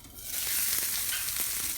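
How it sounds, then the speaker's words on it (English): Fish fries in a frying pan with a loud, steady hiss and crackle, nearby and with no talk. "Oh, it's sizzling."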